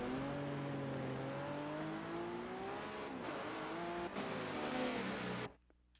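A pack of GT race cars, Chevy, Ferrari, Ford GT, Nismo and BMW, rolls toward the green flag at Daytona in a racing video game, a dense steady engine drone with revving that cuts off near the end.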